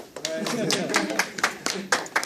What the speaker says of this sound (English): I'll clap for myself